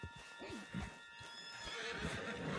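A horse in Red Dead Redemption 2 whinnies in a wavering, drawn-out neigh over a faint steady background hum, with soft hoof sounds following.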